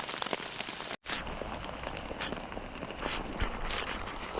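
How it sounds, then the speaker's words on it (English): Steady rain patters outside while stealth camping, a continuous close hiss of drops on surfaces with scattered louder drips, broken by one brief dropout. "I'm just waiting that there comes like a small pause in this rain, because I really don't want to get wet."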